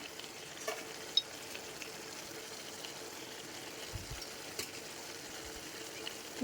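Turmeric dropped into oil heated on full flame for potol dorma sets off a soft, continuous sizzle, quiet overall, with a few faint clicks of stirring and no talking.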